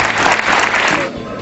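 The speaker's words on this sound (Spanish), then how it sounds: "les ruego que un grandioso aplauso directamente al ciudadano que nos visita" A short burst of crowd applause for a visiting citizen at a local gathering, loud and close for about a second before quickly dying away.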